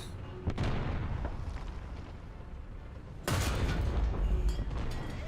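An artillery shell landing on target in the War Thunder video game, two heavy booming impacts each followed by a long low rumbling roar, loud and close with no voices.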